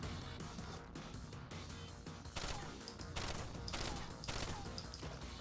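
Rapid bursts of gunfire from the tactical shooter Rainbow Six: Vegas, dense automatic fire rattling across the whole stretch and growing heavier toward the end, with faint talk in the background.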